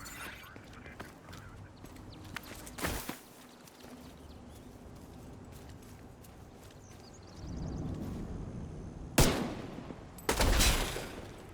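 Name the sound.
gunshot in the video game Division 2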